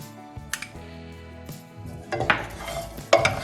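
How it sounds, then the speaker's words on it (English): Puffed makhana stirred with roasted sesame seeds in a pan, a few scraping and clinking strokes of a spoon against the metal, close and clear with no talk. "Give it a good mix and take them into a serving plate"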